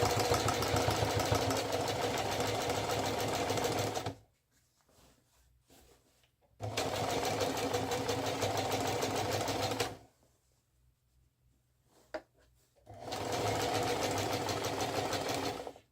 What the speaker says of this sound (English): So I got a zigzag stitch, and we're going to run right alongside the initial stitch here.